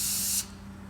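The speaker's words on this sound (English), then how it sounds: "So usually after a cut, I usually take my clipper, spray them." Barbicide disinfectant sprayed onto hair clippers from about an inch away: one close, steady hissing burst that stops abruptly partway through, followed by quiet.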